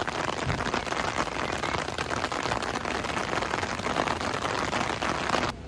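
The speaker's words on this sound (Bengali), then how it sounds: "বৃষ্টি পড়ছে ঝমঝম করে।" Heavy monsoon rain pours in Cherrapunjee, Meghalaya, a constant, loud, even wash of noise with no breaks and no voices.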